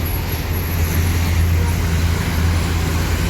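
A diesel intercity bus bound for Jogja idles and moves at a bus terminal in smoky Palembang, giving a steady low engine rumble over constant traffic noise, with faint voices in the background.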